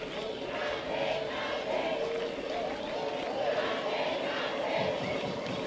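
Spectators at a beach tennis final in Brasilia cheer and chant in a steady, rolling roar. Crowd voices rise and fall together, and a commentator's voice sits faintly in the mix.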